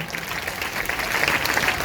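A congregation clapping during a Sunday church sermon, a brief, steady patter of many hands that holds at an even level through the short moment.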